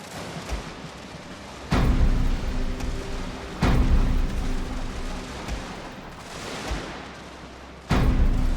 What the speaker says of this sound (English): draw them into the fire of the cannons